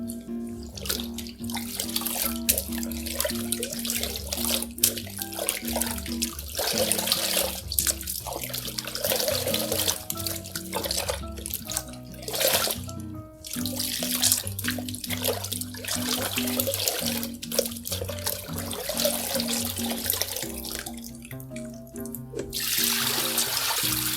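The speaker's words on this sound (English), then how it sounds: "Now that our basin is full of water, we're going to rinse again" Water from a tap runs steadily into a basin, filling it for rinsing a wig with a silicone insert, a continuous close splashing trickle with light handling sounds throughout.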